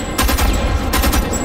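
Loud automatic gunfire in the shooter game Homefront: The Revolution, two dense rattling bursts close up, with no talk.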